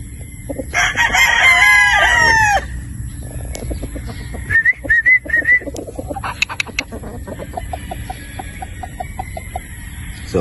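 A bulik gamecock broodstag crossed with Sweater Boston crows loudly and close in one long rasping call, followed by softer clucks and chattering from nearby fowl.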